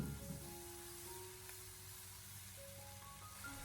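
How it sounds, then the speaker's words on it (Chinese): Water spinach stir-fried over high heat in a wok, a soft steady sizzle with faint scraping, quiet and continuous throughout. "然后再开大火给它快速的进行翻炒"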